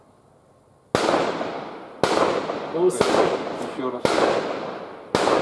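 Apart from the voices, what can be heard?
VPO-209L rifle shots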